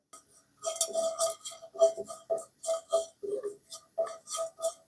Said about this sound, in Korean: 팬에 마른 후라이 팬에 멸치 좀 볶아 줄게요.